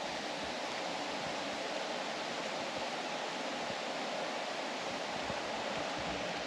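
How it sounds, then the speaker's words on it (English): Small rapids in a creek rush beneath a large bridge in tropical Australia, a steady broadband roar of flowing water that stays even and continuous throughout, at moderate distance with no voices. "A few little rapids and everything going down there."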